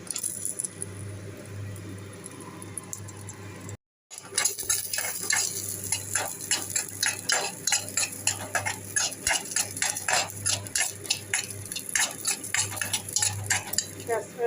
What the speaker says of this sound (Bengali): তেল গরম হয়ে গেছে এরপর আমি কাজু বাদাম আর কিশমিশ দিয়ে দেবো ঠিক আছে নেড়ে চেড়ে তুলে নেবো